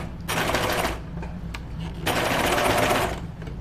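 A sewing machine stitches knit fabric for a Lucida Dress in two steady, close bursts of rapid whirring, each lasting about a second, separated by a brief quieter pause.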